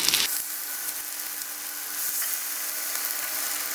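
Steady hissing sizzle of chicken frying in hot oil, continuous and close, with a brief clatter at the start.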